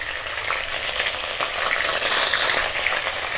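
Chilli and ginger paste frying in hot oil, a steady dense sizzle with faint crackles that holds at an even, close level throughout.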